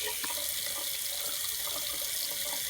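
Water runs steadily into a pBuddy receptacle and drains out, a continuous hissing pour with faint gurgles, close and alone.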